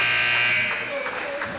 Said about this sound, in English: 3-pointer for Sebastian Eldred as the horn sounds to draw Danville a little bit closer at the half.